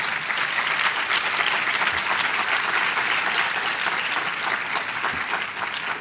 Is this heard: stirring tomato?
no